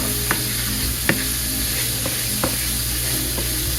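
Walnut meat with soy sauce fries in a pan with a steady, close sizzle, while a utensil stirs and scrapes it now and then in a few soft, irregular knocks.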